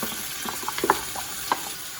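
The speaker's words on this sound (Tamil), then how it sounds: "இப்போ வந்து நண்டை நான் ஒரு 2 நிமிஷம் நல்லா வதக்கிட்டேன்" Crab in a curry masala sizzles in a pan as it is stirred and sautéed, a soft steady fry broken by a few light scraping clicks from the utensil, close and without voices.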